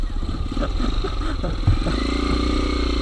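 An enduro motorcycle engine runs close by on a trail ride, its mid-pitched note rising and falling with throttle blips and revs, a mechanical clatter underneath and faint voices in the background.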